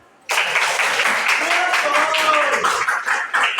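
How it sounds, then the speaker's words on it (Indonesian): Loud applause from a group breaks out suddenly and continues steadily, with voices calling out over the clapping. "Tepuk tangan semua"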